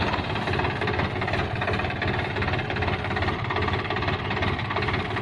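A Swaraj 963 tractor with a 63 hp engine runs an 8-foot super seeder at 1600 RPM with the PTO at 540. It makes a loud, close, unbroken mechanical drone with a fine knocking vibration and no voices.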